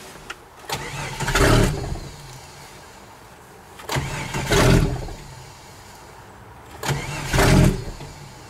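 A Stihl MS660 chainsaw with its muffler off sputters through three attempts at starting, each a brief loud raw engine roar that dies back, separated by quieter pauses with pull-cord and handling noise, close up.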